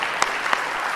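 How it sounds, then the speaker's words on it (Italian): A brief stretch of audience applause at a talk by astronaut Maurizio Cheli: dense, even clapping throughout, with a couple of sharper single claps standing out. "Comunque dobbiamo fare un applauso"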